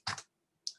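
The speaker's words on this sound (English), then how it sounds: "there's a cat on the keyboard." A cat walks across a computer keyboard, giving two quick, faint clattering key presses separated by a short pause, with no talking.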